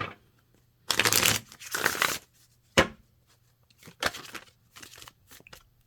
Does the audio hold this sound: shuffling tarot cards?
yes